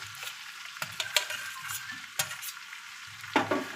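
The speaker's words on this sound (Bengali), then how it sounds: "সবগুলো একেবারে ভালো করে ভেজে নিচ্ছি।" Fried potato pieces sizzle and get stirred in a pan while cooking Bengali fish head with cabbage, steady frying crackle punctuated by sharp spoon scrapes and clinks, close and alone.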